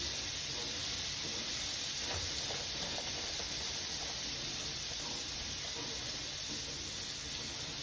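Party wings sizzle and spit in a skillet of hot oil, a steady broadband hiss of frying that runs unbroken and fairly loud throughout, with no talk over it.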